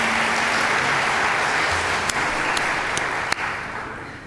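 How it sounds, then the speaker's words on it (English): Sustained applause from a graduation ceremony audience, a steady dense wash of clapping that holds throughout and tapers slightly near the end, with no talk over it. "that's really worth an applause in itself"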